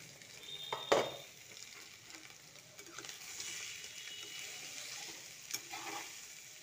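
Salted, spiced soybean chunks fry in a pan with a soft continuous sizzle, broken by a sharp clatter near the start and a few light stirring scrapes and clinks.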